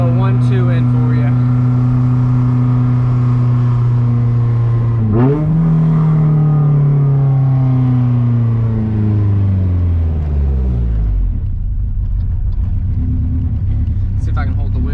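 A B17-engined Honda CRX held on a two-step launch limiter, its engine bouncing loudly at a steady high idle, then a sharp rev rise and a long falling pitch as the revs drop away, with people talking over it.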